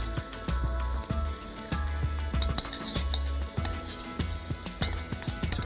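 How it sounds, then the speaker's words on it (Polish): Chanterelle mushrooms fry in a pan with a steady close sizzle, broken by a regular series of scraping stirs and light knocks of a utensil against the pan, and no voices. "Kurki posmażę dosłownie kilka minut."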